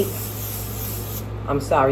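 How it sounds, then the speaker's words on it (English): Cooking spray hisses from a can into a 9-inch cake pan, a steady close spray lasting over a second before stopping, followed by a short burst of talk. "I just gave it a little light spray with the pan."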